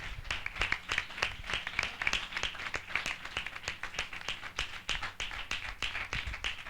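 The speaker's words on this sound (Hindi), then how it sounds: "हम जोरदार तालियों से उनका स्वागत करें।" Applause from a church congregation fills the space for several seconds, a dense, steady patter of many hands clapping in a reverberant hall with no talking over it.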